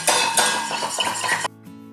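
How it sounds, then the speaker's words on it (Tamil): A spoon or beater clatters and clinks against a metal pan while a milk mixture is stirred, a loud, close, rapid run of metallic taps that stops abruptly and leaves a faint ringing tail. "நம்ம இந்த பீட்டரோ இல்லை எந்த கரண்டியை வச்சு நம்ம மிக்ஸ் பண்ணிகிட்டே தான் இருக்கணும்"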